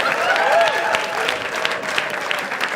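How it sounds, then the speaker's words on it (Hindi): A live studio audience at a comedy talent show gives a standing ovation, a dense wash of clapping filling the room, loudest at first and then thinning slightly, with voices faintly under it. "स्टैंडिंग ओवेशन दे दो"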